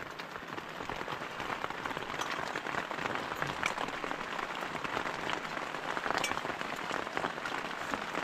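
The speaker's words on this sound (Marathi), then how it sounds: "बाहेर भरपूर जोरदार पाऊस पडतोय" Heavy rain pours steadily outside a tent at a campsite, a dense, continuous hiss of drops drumming on the surface, loud and close throughout.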